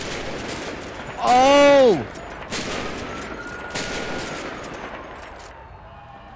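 Gunfire erupts in a sniper shooter game, a loud burst of several sharp shots followed by a couple of fainter reports, with a player's exclamation over the top.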